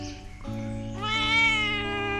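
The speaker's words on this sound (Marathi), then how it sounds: "चिंटू बोका" A tomcat meows at close range, with one drawn-out, rising and falling cry lasting about two seconds and clear harmonic tones, heard on its own with no talk.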